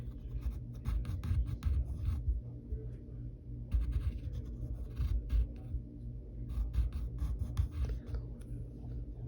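Pencil strokes scratching across paper as a cartoon hand is drawn, a steady close rubbing and scraping in short bursts with brief pauses, fairly quiet and without talk.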